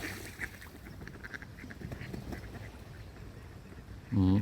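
A duck quacks faintly a few times in the distance by a large pond at a Ukrainian mountain sanatorium, over outdoor ambience, followed by a brief loud rumble at the very end.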